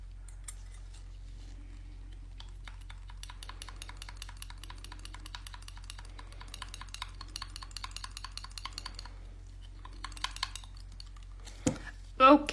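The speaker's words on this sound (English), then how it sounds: "I'm going to give it a stir because it won't let go of my glitter on the bristles" A brush clicks and scrapes rapidly inside a small bottle of glitter nail polish, a dense run of tiny glassy ticks over a quiet background, ending with a few louder knocks.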